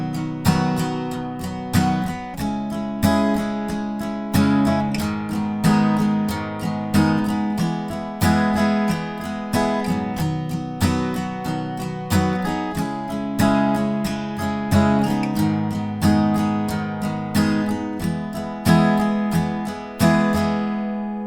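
Pre-chorus chords of a song strummed on guitar, one strumming pattern per chord, a steady rhythmic pulse of clear repeated strums, close and moderately loud with no talking.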